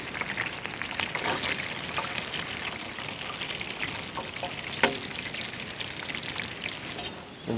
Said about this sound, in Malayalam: കുറച്ച് ഉള്ളി, ഇനി കുറച്ച് കറിവേപ്പില്, ഉണക്കമുളകും.